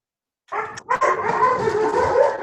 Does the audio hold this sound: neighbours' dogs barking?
yes